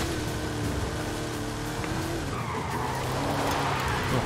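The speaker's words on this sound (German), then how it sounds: "driften geht heute auch nicht so" Tires squeal as a car drifts through a turn in Forza Horizon 5, a continuous loud skid over steady engine roar that swells toward the end, with no voices.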